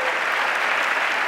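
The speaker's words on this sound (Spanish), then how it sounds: "terminamos dándole un fuerte aplauso a Dios en este día" A short burst of thick, even applause from a crowd at a school event, loud and sustained with no break.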